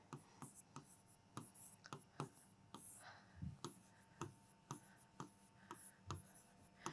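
Pen writing notes on paper, a string of quick scratchy strokes in an irregular rhythm, close and fairly quiet, with faint speech in the background.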